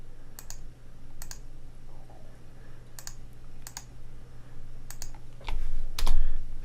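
Mouse clicks while making a selection in image-editing software, sparse sharp paired clicks spaced irregularly over a low steady hum, close with no speech.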